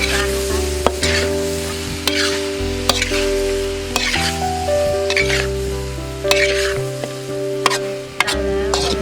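Wild boar is stir-fried with kaffir lime leaves in a hot pan, a strong continuous sizzle broken by repeated sharp scrapes and clanks of a spatula against the pan, close up and with no talk.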